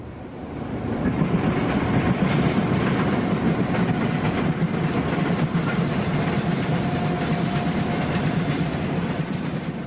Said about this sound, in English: A westbound empty coal train comes downhill past the tower.